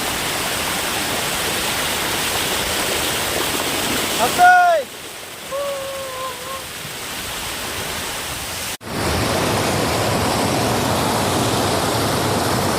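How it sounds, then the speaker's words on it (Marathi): A waterfall on the Surya river in Palghar sends up a steady broadband rush of falling water. It drops out briefly while a person speaks, then returns just as loud and continuous. "धबधबा आहे खूप छान"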